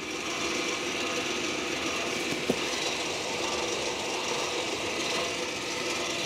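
A car's electronic parking brake caliper retracts under command from an OBD2 diagnostic tool, giving a steady whirring motor drone that runs throughout, with one brief click partway through.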